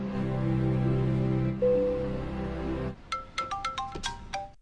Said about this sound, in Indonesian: Kemudian Zuang Ji mendapat telepon dari gendut yang memberitahu keberadaan Nenek Chen sekarang